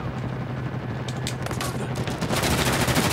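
Pistol fire in an Uncharted 4 team deathmatch match in a village cracks out as rapid, loud, repeated shots that build into a steady barrage over busy game noise.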